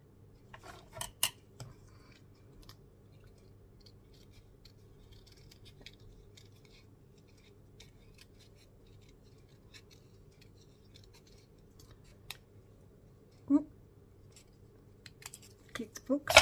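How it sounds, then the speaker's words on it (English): Scissors snip paper flowers off a greeting card, giving a few faint, close crisp cuts scattered over a quiet background with light handling noises. "I'm going to cut the flowers off the top of here because they match the flowers that are here and there."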